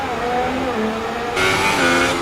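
Formula 1 race car running its out lap in qualifying at the Baku street circuit, engine droning steadily with rising and falling pitch, a brighter upshift near the end, continuous and fairly close with no talking.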